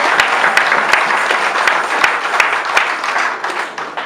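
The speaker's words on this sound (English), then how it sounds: "let's give Jesus a round of applause." A church congregation gives a round of applause at a Thanksgiving Sunday service, dense steady clapping filling the whole stretch with a few sharper individual claps standing out.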